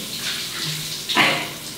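A home shower runs steadily with a continuous hiss of spraying water, close and moderately loud, with a brief surge of splashing near the end.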